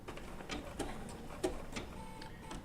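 A Bernina B790 PRO sewing machine with an open toe foot stitches wool applique in short, sparse bursts, soft ticking needle strokes with pauses between them, close and quiet.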